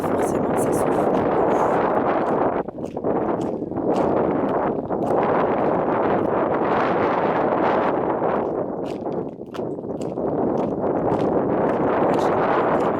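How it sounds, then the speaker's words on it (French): Strong wind buffets the microphone outdoors at a château, a loud, continuous rumbling roar with gusty swells and brief lulls throughout. "je sais pas si on m'entend bien à cause du vent"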